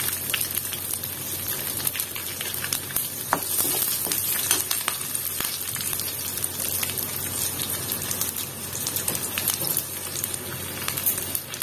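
Ginger and green chilli frying in hot oil, a steady close crackling sizzle with spitting pops that runs unbroken and fairly loud throughout, with no voices.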